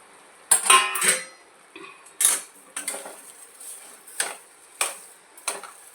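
Sugar being stirred into ghee-fried sheera in a metal pan, a series of sharp spoon scrapes and clinks against the pan, spaced irregularly with quiet gaps between them.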